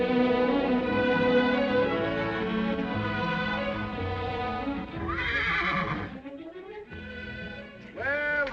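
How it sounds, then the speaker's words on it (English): A horse on a Western-town street whinnies loudly in a rising then falling call, with hoof clip-clop and background music; a second, shorter neigh follows near the end. "Nice little horse you got here, Sonny."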